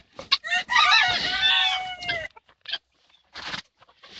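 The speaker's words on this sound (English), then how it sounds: "all the chickens are good" Chickens kept in cages under a tent in an underground setting cluck and crow, with a long rooster-like call up front followed by scattered short clucks and pauses, fairly close.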